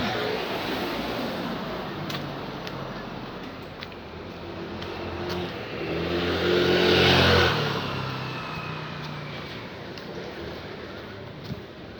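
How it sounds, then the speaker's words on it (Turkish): Cars pass on a road at a forest edge, a low engine rumble swelling to a broad whoosh around the middle and then fading, with steady background noise throughout. "Arabalar geçiyor şimdi."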